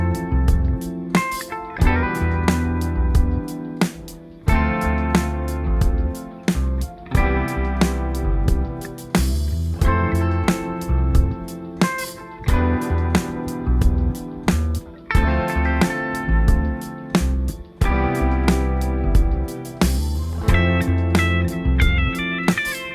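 Mellow guitar part doubled by a soft pad synth in an R&B arrangement, a full mix with steady bass and drums, repeating chord phrases continuously with no voices.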